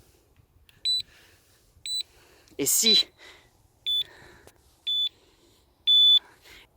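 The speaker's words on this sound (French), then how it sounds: "Si je commence à bouger la moto, j'ai une petite sonnerie qui signifie qu'il y a une alarme." Short high electronic beeps from the alarm of a Super Soco TC electric motorcycle, triggered by moving the bike, repeat at roughly one-second intervals, with a brief spoken word in the middle.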